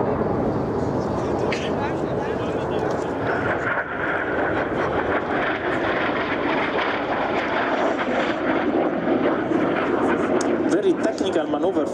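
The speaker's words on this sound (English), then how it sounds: "Very technical maneuver for the number 10 of the Frecce Tricolori with his AirMaki MB339, the name of the Italian jet chosen by the Frecce since 1982." Loud, continuous jet roar from an Italian Aermacchi MB-339 of the Frecce Tricolori solo display performing a slow roll at an air show, with a commentator speaking over it throughout.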